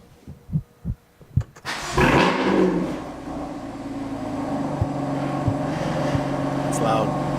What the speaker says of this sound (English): See if we can get a nice cold start.